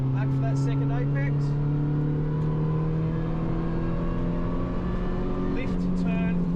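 A Toyota 86 at full throttle on a racetrack, the engine droning steadily and loudly from inside the cabin while a voice talks over it.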